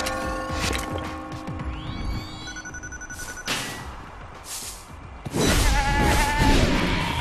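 Sheep bleat in the video game Tokyo Jungle, a few wavering calls amid thumps and crashes of gameplay, moderately loud with no talk over them.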